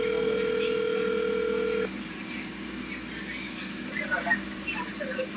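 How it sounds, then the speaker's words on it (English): A telephone call being placed: a steady electronic tone sounds for a couple of seconds, then cuts off, leaving a quiet line with faint background noise and small clicks. "I'm calling my dad."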